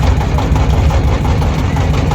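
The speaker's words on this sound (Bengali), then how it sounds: "নৌকা আবার চলতেছে" A boat engine on a river in the Jamuna char shallows churns steadily at a slow pace, a continuous low rumbling drone with a throbbing knock, close and fairly loud throughout with no talk.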